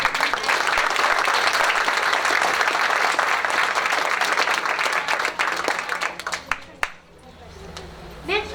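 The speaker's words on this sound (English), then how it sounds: "one more round of applause for this" An audience at a school celebration gives a round of applause: dense, loud, sustained clapping that thins out and fades near the end.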